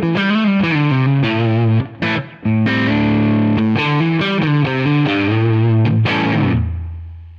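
Distorted electric guitar on the middle pickup position, played through a Tonex amp capture called Mars-Rock. Loud, sustained chords and riffs ring alone, with a brief gap near the two-second mark before the final chord fades out.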